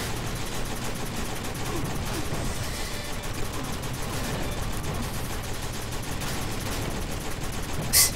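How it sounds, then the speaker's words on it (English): Dense, continuous gunfire fills the action game Kickass Commando, rapid bursts and volleys running throughout at a steady, loud level with no pauses, ending in a brief sharp crack. "You guys are shooting me through through like impenetrable trees"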